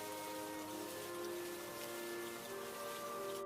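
Steady rain falls in a soft, continuous patter, faint and even throughout, with no voices.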